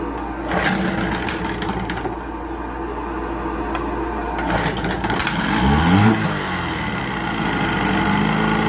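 A 1978 Johnson 6 hp outboard motor fitted with the wrong spark plugs catches and runs loud and close, holding a steady buzzing drone throughout, with a brief rise in revs partway through.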